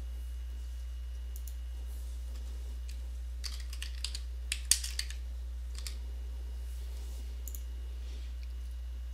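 Keyboard shortcuts and mouse clicks while editing in Microsoft Word, with a few scattered clicks and a short cluster of quick keystrokes in the middle, close and quiet over a steady low hum.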